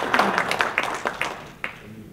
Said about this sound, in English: so we can all give him a nice round of applause